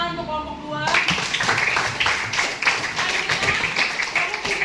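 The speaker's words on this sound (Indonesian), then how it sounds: "Tepuk tangan untuk kelompok 2." A classroom of teachers in training claps for a presenting group, a steady scattered patter that starts abruptly after a voice and continues for several seconds.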